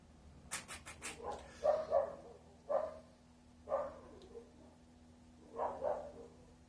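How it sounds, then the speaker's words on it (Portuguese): A dog barks repeatedly at a distance, single and double barks spaced a second or so apart, with a few quick clicks at the start. "Vamos esperar o doguinho parar de latir."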